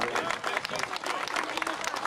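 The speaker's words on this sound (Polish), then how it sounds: "Wielkie brawa, Szanowni Państwo." A crowd applauds at the 2015 port opening ceremony in Dziwnów, a dense, steady patter of many hands clapping, with a voice faintly over it.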